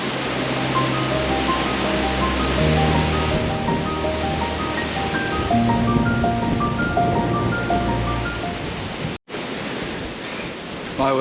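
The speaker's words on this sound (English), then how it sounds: "My word, is it windy" Strong, steady wind roars across an exposed hillside near a ridgeline, a dense continuous rush buffeting the microphone throughout, broken by one brief dropout near the end.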